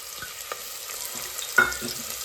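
Onions fry with spices in a pan for village-style baingan bharta, a soft continuous sizzle with a few light scrapes and one sharper clatter, close by and without speech.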